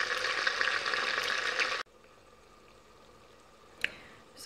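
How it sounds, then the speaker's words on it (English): Bacon rashers cut up and browning in a pan with spring onions sizzle loudly and densely for under two seconds, then the frying drops abruptly to a faint background hiss with a single small clatter near the end. "I now have my bacon in browning off, and I've just added in the spring onions"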